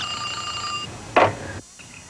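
A telephone rings in a television commercial, a bright trilling ring held for under a second, followed by a short louder burst and then a sudden drop to near silence.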